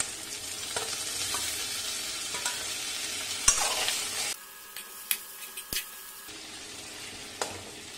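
Onions frying in a pan with a steady sizzle and spoon stirring scrapes, then the sizzle drops away to quieter intermittent clinks and taps before the frying hiss returns.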